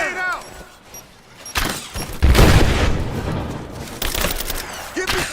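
A grenade bursts during a firefight in Rise of the Tomb Raider, a heavy boom followed by a long rumbling roar and crackling debris. Soldiers shout in the background, and more gunfire and a second blast follow.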